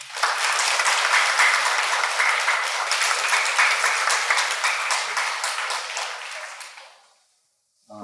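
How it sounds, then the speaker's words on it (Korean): An audience claps steadily and warmly for the environment minister at a Buddhist prayer gathering at Woljeongsa temple, the dense applause holding for several seconds before tapering off into silence. "우리 김한섭 환경부 장관님께 깊은 감사의 박수를 한 번 더 보내주시고"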